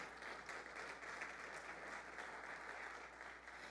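Steady applause from a church congregation fills the space, a continuous dense clatter of clapping hands with no pauses, moderately distant and even in loudness throughout.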